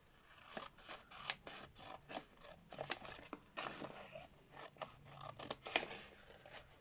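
Scissors snipping through material while finishing off craft projects, a rapid run of close, crisp cuts and rasping blade strokes with no talking.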